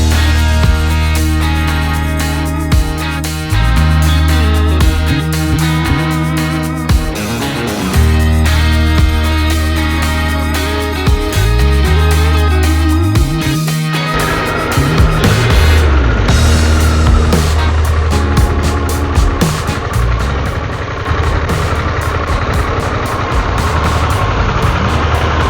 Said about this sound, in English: let's go for some more beautiful motorcycle riding